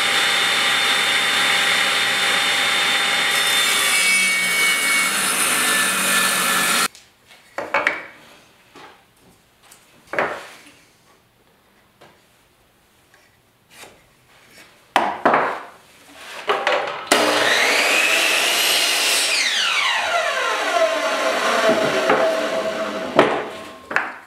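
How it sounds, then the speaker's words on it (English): Power saw cutting small 2x2 wooden boards to five-inch lengths: two loud, sustained bursts of cutting noise, with a quieter stretch of knocks and wood handling between them. "Now I'm just cutting these little 2x2s that I cut 5 inches long here."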